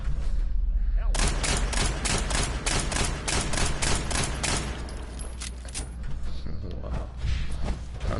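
Rapid bursts of pistol gunfire in the Fallout video game, a dense run of loud shots from about one second in, trailing off into scattered, fainter reports under a steady low rumble.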